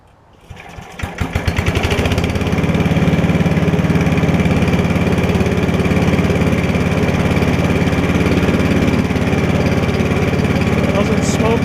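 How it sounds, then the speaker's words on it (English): An 8 hp Briggs and Stratton small engine cranks and catches about a second in, then settles into a loud, steady, close running drone that holds for the rest of the clip. "let's fire it up"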